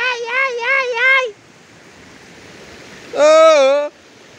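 A swollen river rushes with a steady, broad roar, while a person cries out twice in long, wavering wails over the water.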